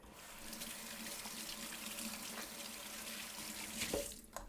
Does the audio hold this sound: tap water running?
yes